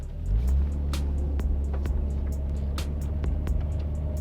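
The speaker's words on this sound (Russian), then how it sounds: "Послушай немного звука GZ GTE." Toyota Cresta JZX90 Tourer V with its turbocharged JZ-GTE engine accelerating hard from inside the car: a loud, steady engine roar climbing in revs, with a few sharp clicks and ticks over it.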